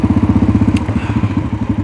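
A Yamaha XT660X single-cylinder motorcycle being ridden, its engine thumping out a loud, close, lumpy pulse of rapid firing beats that wavers slightly in pace.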